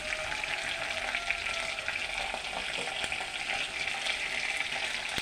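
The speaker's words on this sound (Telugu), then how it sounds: "దీంట్లో మునగాకు వేపాలండి" Moringa leaves frying in a pan after green chillies, a steady, close, bright crackling sizzle that holds without a break, with a few faint clinks of stirring.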